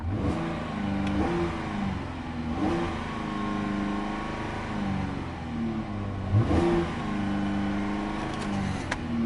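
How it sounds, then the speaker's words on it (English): A 2014 Cadillac XTS engine revving repeatedly, rising and falling in pitch in several throttle bursts, close by with a steady idle rumble between. "And that's what you get when you rev it up."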